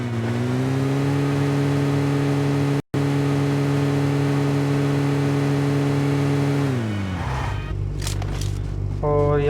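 A car in the PUBG Mobile video game drives at a steady engine hum, briefly cutting out, then the revs drop as the vehicle slows near the end.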